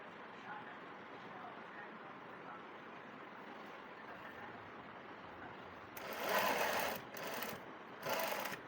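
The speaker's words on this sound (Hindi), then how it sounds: "फोल्ड करने के बाद किनारी के ऊपर सिलाई लगाएंगे।" Domestic sewing machine stitching along a folded pajama hem above the elastic, a faint low background hum then three loud rapid whirring bursts of stitching near the end, with someone speaking through the quieter part.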